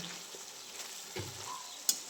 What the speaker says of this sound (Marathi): भोपळ्याची भाजीला आत्ताच फोडणी दिली